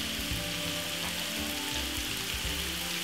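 Escovitch ingredients sauté in a very hot pan for Jamaican fried fish, giving a dense, steady, close sizzle that continues without a break.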